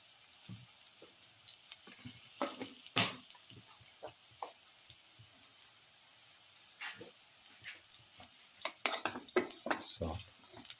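A potato and bottle gourd casserole mixture is stirred in a pan, with soft sizzling broken by scattered spoon scrapes and clatters that cluster toward the end.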